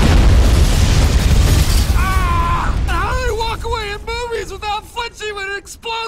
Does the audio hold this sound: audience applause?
no